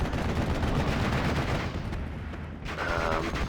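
Dense battlefield din of mortar strikes and gunfire in the game Steel Division: Normandy 44, Utah Beach mission, a continuous loud roar of overlapping shots and blasts with brief dips and a few sharper cracks near the end.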